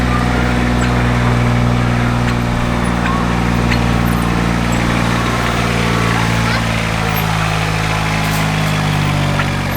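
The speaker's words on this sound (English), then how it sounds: "Here comes Tractor Boy." A loud tractor engine idles and rumbles steadily throughout on a ranch, deep and close, with a constant low drone and slight shifts in pitch.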